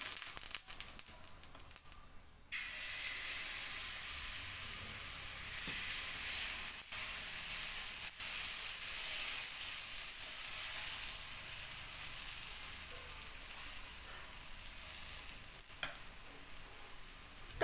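Rava dosa batter sizzling in oil on a hot tawa, a steady bright hiss that holds throughout, broken by a brief drop near the start and a few soft clicks and scrapes.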